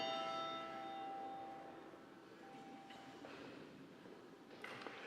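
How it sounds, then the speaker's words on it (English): A church bell for a children's class rings with a sustained, shimmering tone that slowly fades into a steady low background rumble. "That's why that bell's ringing."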